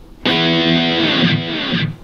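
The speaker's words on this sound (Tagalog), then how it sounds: "Ngayon ito yung solo. Meron tong delay, may reverb." A sustained electric guitar solo tone, lightly distorted with delay and reverb, played through a Positive Grid Spark Mini amp; a held note rings loud and steady for about a second and a half, then decays into a reverb tail.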